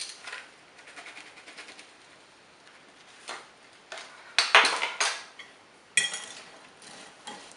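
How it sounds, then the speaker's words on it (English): A spoon clinks and scrapes against a bowl while pecans are stirred with hot buttered rum and egg, producing irregular light taps and a few sharper knocks, fairly quiet and without talk. "We'll mix that up and it'll stick a little bit with that egg in there."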